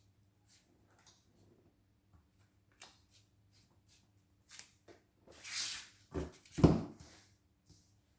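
Tarot cards shuffled by hand before a reading, with soft sparse taps at first and then a few louder riffling bursts near the end, close and otherwise quiet.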